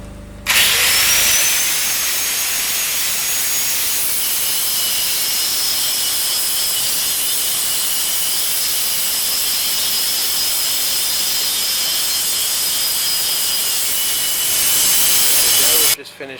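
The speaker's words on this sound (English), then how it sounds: "Now I've just got to clean up those welds with the grinder." An angle grinder smooths welds on an aluminium window frame, a loud, continuous high whine that runs nearly unbroken from start to finish before cutting off.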